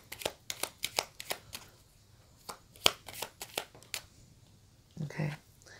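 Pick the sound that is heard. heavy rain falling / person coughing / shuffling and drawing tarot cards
shuffling and drawing tarot cards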